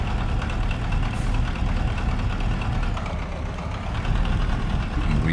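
Peterbilt 359 truck with a CAT 3408 V8 diesel running in a truck-driving video game, a steady low, throbbing engine drone held at an even level throughout.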